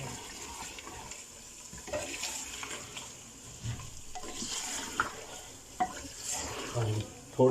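Meat with salt and green chillies is stirred and fried in a clay cooking pot, soft sizzling under repeated scraping and clanking of a utensil, fairly close and quiet.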